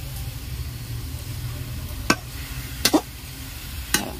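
Onions frying in a pan give a steady loud sizzle, and a few sharp scrapes and clacks from stirring break in near the end; no one speaks.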